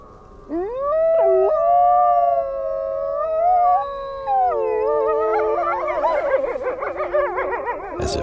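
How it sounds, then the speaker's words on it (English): A pack of wolves howls together in the wild, several long rising and falling voices layering into a loud, overlapping chorus that grows busier and more tangled toward the end. "As if saying their goodbyes, the wolves start to howl."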